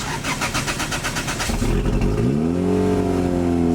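A turbocharged Toyota MR2 Spyder cranking with rapid starter pulses, catching after about a second and a half and settling into a loud, steady idle close by.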